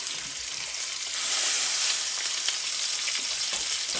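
A fish fillet seasoned with paprika fries in a pan, a dense, loud sizzle that swells as the fillet is flipped from its crispy skin side and then keeps hissing steadily up close.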